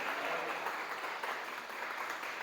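Church congregation clapping during a Spanish-language sermon, a steady, fairly distant wash of applause with no pauses and no speech over it.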